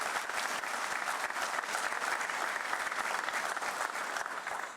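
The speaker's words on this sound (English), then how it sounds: "let's give them a round of applause" Guests at a college ribbon-cutting ceremony give a round of applause, a steady wash of many hands clapping, moderately distant and quiet, fading slightly at the close.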